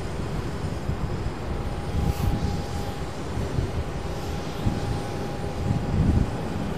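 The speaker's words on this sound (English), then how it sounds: "CFM 56 powered 737 700 800 something like that." A CFM56-powered Boeing 737 jet at Amsterdam Schiphol, heard as a steady broadband engine roar with a faint whining tone, moderately distant and swelling slightly near the end, no voices.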